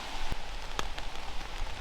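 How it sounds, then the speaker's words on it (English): Raindrops patter on a camping tarp during a solo wild camp beside Entwistle Reservoir, a close, soft, steady hiss of rain with a few sharper individual drop taps standing out. "Hearing the raindrops on the tarp is just the best sound ever."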